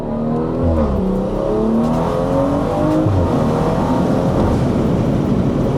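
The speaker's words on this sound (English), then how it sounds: "Listen to the shifts." A BMW 340i with the B58 engine pulls hard under acceleration, its loud rising drone stepping down in pitch at each gear shift, several shifts in quick succession from inside the car.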